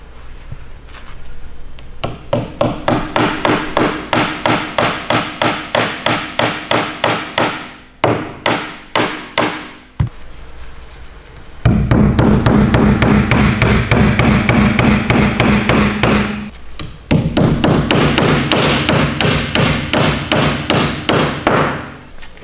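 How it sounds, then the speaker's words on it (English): Masonry nails hammered into a putting platform indoors: loud, close, rapid runs of sharp hammer strikes with short pauses between bursts, continuing throughout without talk. "I'm gonna try to hammer it down, see if it holds it."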